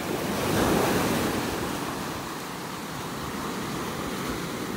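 Gulf of Mexico surf rolls onto a beach in North Naples, Florida, as a continuous broad wash of breaking waves. It swells briefly early on, then settles into a steady roar, with some wind rumble and no voices.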